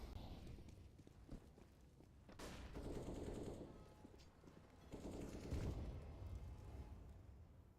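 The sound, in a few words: pistol gunfire in the video game Counter-Strike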